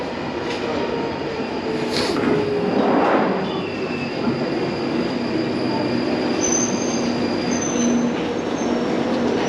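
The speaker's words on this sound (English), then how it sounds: "here's my train" London Underground Northern Line train pulling into Colindale station, a rising rumble with wheels squealing and a high brake whine, surging around three seconds in before settling into a steady hum.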